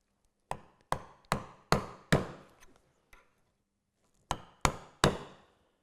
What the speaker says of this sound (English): Keep my chisel aligned with the guide.